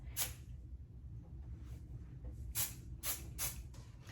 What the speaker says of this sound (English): I think we're pretty ready now to go in with some hairspray